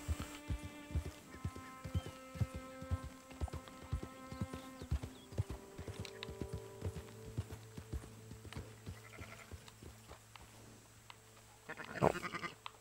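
Sheep bleat in Red Dead Redemption 2, several drawn-out, quavering calls overlapping at mid distance above a steady clip-clop of hooves.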